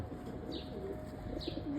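Soft pigeon cooing against a steady background hum, with a couple of brief higher chirps breaking through.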